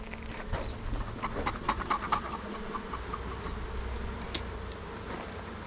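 Honeybees buzzing around hive boxes while honey supers are added, a steady droning hum with some louder individual passes close by and no talk.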